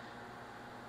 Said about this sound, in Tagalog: Narinig niyo yung tunog ng electric fan,